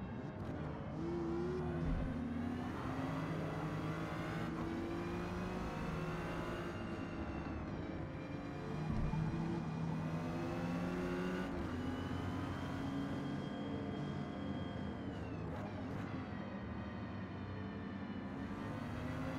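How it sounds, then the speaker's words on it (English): Race car engines in Forza Motorsport (2023) during a Super Sixes race with a BMW in the field, a continuous loud drone of revving engines rising and falling through gear shifts and corners, with several cars close together and no talking. "Get this BMW on the inside of this corner."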